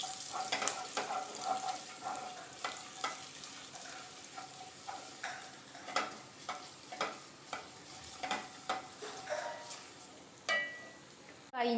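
Crushed ginger sautéing in a pan for raw mango chutney, a steady low sizzle broken by repeated sharp scraping and stirring strokes of a spatula against the pan, close up with no voices.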